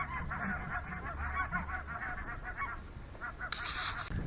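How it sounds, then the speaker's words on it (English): Geese honking on a river foreshore in early winter, a flock calling repeatedly in a lively chorus at moderate distance, with a brief hiss near the end. "Hear the geese again."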